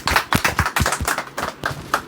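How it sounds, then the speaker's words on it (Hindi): Students in a classroom clap during a class-test award ceremony, a quick run of sharp, fairly close hand claps in an uneven rhythm that lasts about two seconds. "इसके लिए ताली बजा दे थोड़ा"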